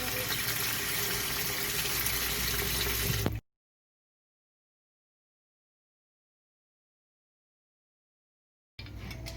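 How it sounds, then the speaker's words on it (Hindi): Tap water runs steadily into a sink while fruits are washed together, a close, continuous splashing gush that stops abruptly partway through, leaves a long silence, then starts again near the end. "इन सबको मिक्स कर लेते हैं ताकि मैं सबको इकट्ठे ही वॉश कर लूँ"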